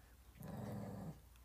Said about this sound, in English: This is my ferocious dog.